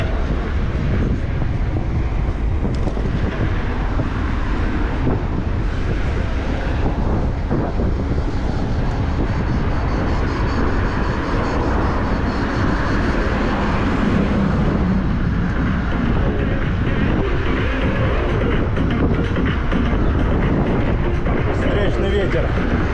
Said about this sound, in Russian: Да, ветер капец.